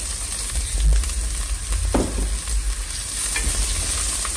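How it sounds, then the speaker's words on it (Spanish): Garlic, chile and spring onion sautéing in hot oil give a steady close sizzle, with a soft stir or clatter near the one-second mark and again around two seconds. "Igual vamos a dejar que se sofríe un poquito."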